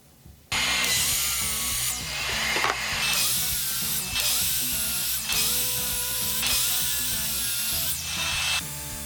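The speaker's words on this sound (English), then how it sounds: "Then we'll take those pieces over to our table saw, cut off our bull nose to square off our edges," A table saw rips cedar boards into strips, loud and close: the whine of the blade rises into several long, sustained cutting passes with brief dips between them and no talking.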